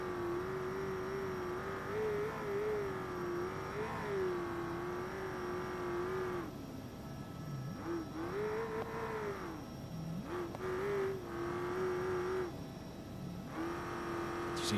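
Truck engine in BeamNG desert Baja racing, revving hard with a steady high whine, dropping sharply as the driver brakes into corners, then surging back up under power; close, loud and continuous with no talk.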